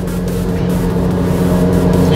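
A car engine runs through a large aftermarket exhaust muffler, giving a loud, steady, close drone with a deep low rumble that holds without a clear rev change.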